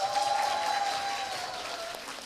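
Brief applause from an audience at a women's jobs forum, a moderate patter of clapping that fades gently, with a thin sustained tone running beneath it.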